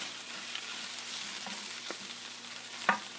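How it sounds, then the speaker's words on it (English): Meatballs, spinach and onions fry together in a pan, giving a soft, steady sizzle. Occasional utensil taps break through it, and a sharper clink comes near the end. "I've got my meatballs going, I've got my spinach and my onions going"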